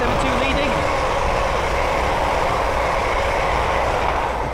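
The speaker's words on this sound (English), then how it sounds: "the next train to pass by is a pair of London Western Railway Class 350s" A pair of London Western Railway Class 350 electric trains passes on the West Coast Main Line at Linslade, giving a steady, loud rushing roar that holds for several seconds with some faint background talk.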